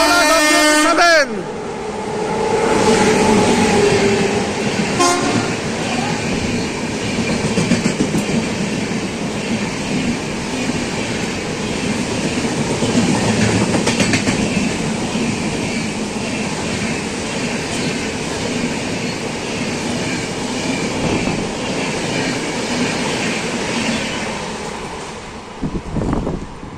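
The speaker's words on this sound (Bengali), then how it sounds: "বোলপুর হাওড়া শান্তিনিকেতন এক্সপ্রেস, হাওড়া WAP7 39178 মুখির সাথে চিতার মুখ দেওয়া হাওড়া WAP7" A WAP7 electric locomotive with a cheetah-face front hauls the Bolpur–Howrah Shantiniketan Express, a loud continuous rumble of wheels and carriages rolling past close by, with a short horn-like tone near the start.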